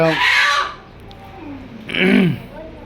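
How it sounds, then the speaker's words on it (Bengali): A domestic desi hen of about 850 grams clucks and squawks in two short bursts, close and loud, with quiet gaps in between. "এই এই মুরগিটা কতটুকু ওজন হয় সাড়ে আটশো বাবা দেশি মুরগি তো অনেক দাম হয়ে গেছে"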